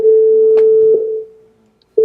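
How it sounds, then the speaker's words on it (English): A steady pure sine tone generated in the browser with the Web Audio API holds for about a second and a half, then cuts out to silence and briefly returns at the end; a couple of faint clicks and low murmurs sit underneath. "So that is a sine wave."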